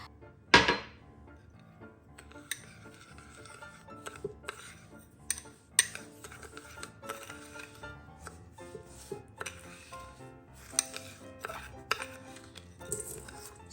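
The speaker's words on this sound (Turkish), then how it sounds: "Toz şekerin bir kısmını 2 kaşık pekmezle karıştırıyorum." Sugar being mixed with molasses in a bowl, giving scattered scraping and clinking of a spoon against the bowl with a sharp knock near the start, quiet and close, with no voices.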